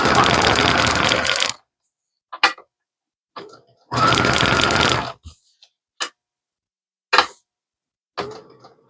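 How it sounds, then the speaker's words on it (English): A sewing machine stay-stitching textured knit fabric, running in two steady bursts of about a second and a half each, close up, separated by quiet gaps holding small clicks and handling taps. "I'm doing step 1, which is the stay stitching, or step 2, which is the stay stitching"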